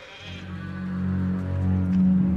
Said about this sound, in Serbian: Nikad nisam vidio ovako velike ovce.